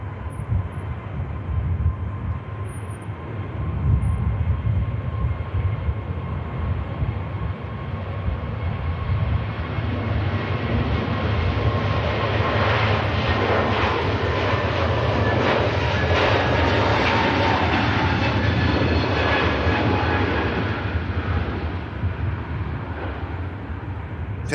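A Turkish Airlines jet at Manchester Airport spools up and rolls for takeoff, its engine roar swelling from a low rumble to a loud, sustained thrust that stays strong to the end.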